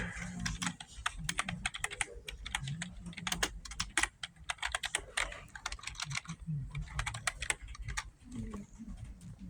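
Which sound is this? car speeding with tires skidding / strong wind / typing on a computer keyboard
typing on a computer keyboard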